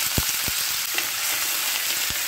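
Sliced onion hits hot oil already spiced with cumin and mustard seeds, giving a loud, even sizzle close up, punctuated by a few sharp spattering pops.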